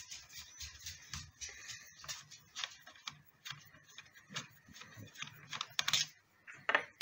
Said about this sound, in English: use a ratchet with an 8mm, loosen the two bolts off